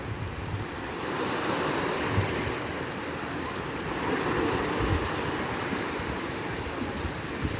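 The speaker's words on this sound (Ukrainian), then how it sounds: "Хвилі моря б'ються об каміння." Black Sea waves washing steadily against stones on a beach in Odesa, a continuous rushing surf with gentle swells, moderately loud and without voices.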